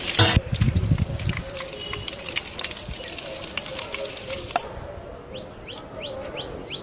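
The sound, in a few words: quail frying in a pan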